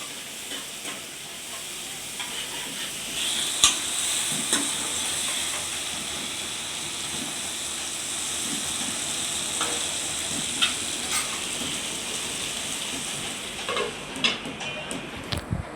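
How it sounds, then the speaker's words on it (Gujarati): Chopped tomatoes and onions sizzle steadily while being sautéed in a pan, a continuous close frying hiss with occasional scrapes and clinks of stirring and no talk. "હવે એ બધું કાચું પાકું ચેડવી લે છે"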